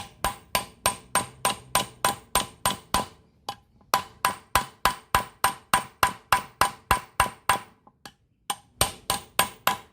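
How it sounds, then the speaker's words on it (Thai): A hammer pounds the joint of old, rusty pliers in rapid, regular metallic blows, about two to three per second, in loud close bursts broken by brief pauses. "เรานำค้อนนะครับ มาทุบตรงรอยต่อหรือว่าตัวหมุนนะครับ"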